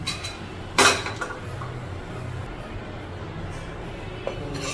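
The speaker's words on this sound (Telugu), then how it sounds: "ముందుగా స్టవ్ వెలిగించుకొని పాన్ పెట్టుకోండి" A metal pan set down on a stove before cooking a raw mango and prawn curry: one loud clank near the start, then a few faint clinks over a steady low kitchen hum.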